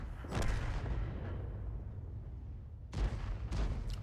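Lorraine 155 51 artillery in a video game, with heavy booming blasts: one near the start that rumbles away into a long tail, then two more sharp reports close together near the end.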